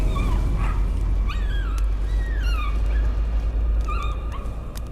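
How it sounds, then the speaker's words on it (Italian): A dog whimpers and yelps in the horror video game Layers of Fear, with a series of high, wavering whines and short yips over a constant deep low rumble, loud and close, without speech. "hai picchiato un cane per sentirlo guaire e registrarlo"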